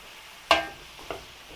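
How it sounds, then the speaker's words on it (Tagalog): A spoon scrapes and clacks against a pan while pork binagoongan is stirred, giving one sharp stroke followed by two softer ones over a quiet sizzle. "Haluin lang po natin."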